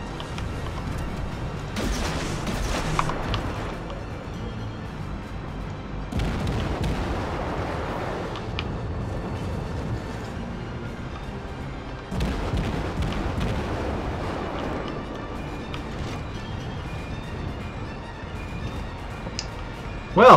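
Naval artillery fire in the video game World of Warships: heavy booming salvos arrive in several loud bursts spread across the stretch, each followed by a rumbling decay over a constant ambient background.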